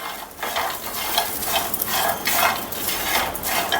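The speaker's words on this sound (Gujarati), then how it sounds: "તો આ રીતે આપણે પલટાવતા જવાનું છે જેથી તેના ઉપરના છોતરા છે તે કડક થઈ જશે" Garlic cloves turned over and stirred in a warm griddle pan with the gas off, giving a steady dry rustling scrape with soft repeated strokes, close and moderately loud.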